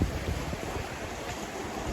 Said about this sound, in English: It's kind of odd to have big waves and no wind.